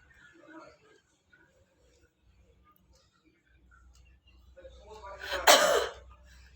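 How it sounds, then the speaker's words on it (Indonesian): A single forceful cough, done deliberately to clear airway secretions, bursts out near the close, preceded by quiet breathing and faint background murmurs. "usahakan kita batuk secara kuat atau keras agar sekret yang ada di dalam saluran pernafasan itu bisa keluar"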